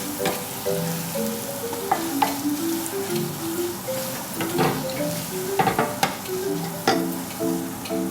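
Sichuan pepper and crushed chillies fry in oil for a fish pickle. The sizzle is steady and close, with occasional stirring clicks and spoon scrapes, and no one talks.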